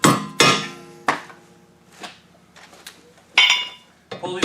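Sharp metallic hammer blows ring out at uneven intervals, about six strikes with pauses between, close by and loud, each leaving a brief clanging decay, as a rear wheel bearing is pounded out of a GM front-wheel-drive car.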